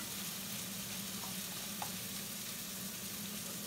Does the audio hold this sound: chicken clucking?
no